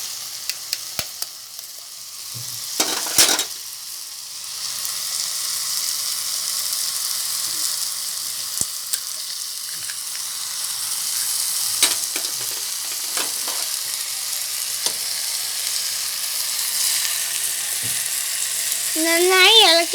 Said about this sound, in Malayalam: നന്നായി ഇളക്കി വരട്ടണം.